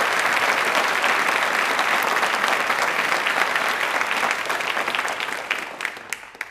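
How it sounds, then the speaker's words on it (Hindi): Spontaneous studio audience applause at a Hindi fortnight quiz broadcast, a dense burst of many hands clapping for several seconds before tapering off into scattered claps. "ताली अपने आप बजी"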